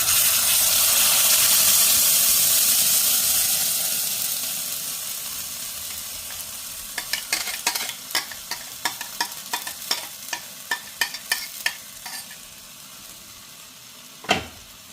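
Tomato and garlic paste hits hot sunflower oil with a loud, broad sizzle that slowly fades, then a string of sharp scraping and stirring taps on the pan, ending with one louder knock.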